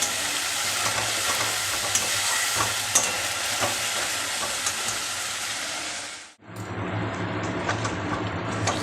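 Spice masala with turmeric and a little sugar frying in a pan for a pointed gourd dorma, stirred constantly: a dense, steady sizzle with scraping, broken by one brief pause before it resumes.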